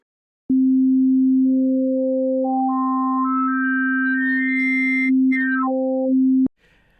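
Waldorf Nave wavetable synthesizer on iPad sounds a steady sustained tone while a second voice steps upward in pitch note by note, then quickly steps back down, ending abruptly, with no talk.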